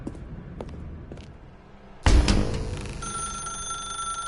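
A telephone rings in The Stanley Parable, its ringing tone entering abruptly after a quiet, faintly thumping stretch and then holding steady with bright sustained tones.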